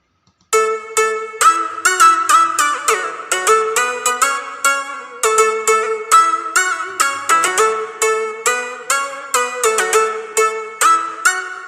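A second synth melody from a music track in an NCS-style electronic production plays in a DAW, bright and harmonically rich, with quick rhythmic note attacks repeating steadily and loud throughout, no voices.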